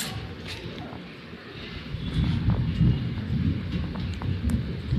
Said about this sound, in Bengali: আকাশে গুরুম গারুম আওয়াজ আর এই দেখো টিপ টিপ করে বৃষ্টি পড়া শুরু হয়েছে